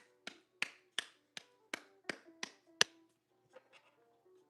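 About eight sharp, separate claps ring out at a steady beat close by, followed by a few softer, scattered ones trailing off in an otherwise quiet space.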